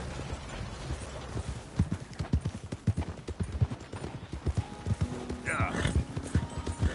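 Rapid clip-clop of horse hooves in the video game Red Dead Redemption 2, trotting at a steady rhythm, fairly close, with a faint mechanical whir and brief squeak in the background.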